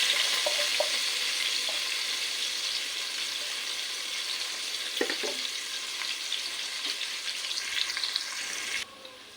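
Onions frying in oil for Kerala-style Bukhari rice, a continuous bright sizzle with a few small taps and scrapes of stirring, no talk.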